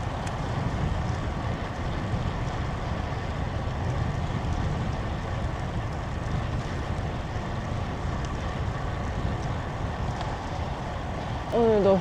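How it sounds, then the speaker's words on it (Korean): Strong wind roars across the microphone during a winter riverside bike ride along the Han River, a constant, heavy low rumble of buffeting gusts lasting throughout, with a brief voice near the end. "바람 진짜 세네."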